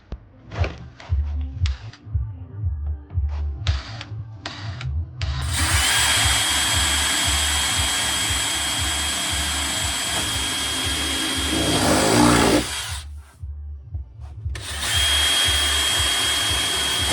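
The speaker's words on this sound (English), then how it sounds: "Once you get that all marked up, start drilling." A power drill whirs steadily for several seconds while drilling a Mk III Supra bumper for add-ons, pauses briefly, then starts up again, preceded by some clunking and handling noises.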